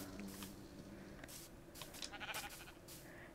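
A sheep bleats several times in Minecraft Bedrock, fairly faint over a soft game background, the wavering calls spread across a few seconds with no speech.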